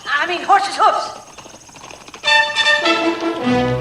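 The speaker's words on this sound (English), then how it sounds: "Hark! Horse's hoofs!" Horse hooves clip-clopping in a comedy film scene, a quick rhythmic approach rising loud under talking voices, with a brief neigh-like tone and music-like tones swelling in the second half.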